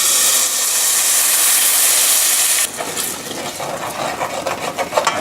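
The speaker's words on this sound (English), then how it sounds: "I'm going to put about half of this tin of coconut cream in there" Coconut cream poured into a hot saucepan to deglaze it while cooking a field mushroom curry: a loud, steady steamy hiss gives way halfway to a softer, crackling sizzle with light bubbling.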